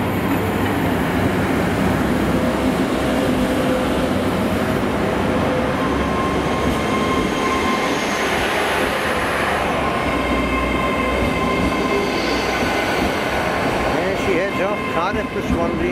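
Trains pass on the line around Cardiff, Bridgend and Sarn in Wales, with a loud, sustained rumble of railway cars and wheels, rising squeals and clicking toward the end.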